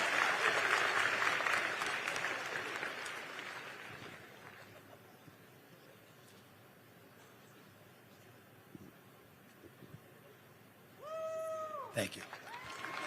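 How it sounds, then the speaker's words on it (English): Audience applause at a public talk, a short burst of clapping near the end that starts up over a quieter room, following a stretch of murmuring crowd noise and talk. "Give Liam a round of applause, folks, for being brave and asking a tough question."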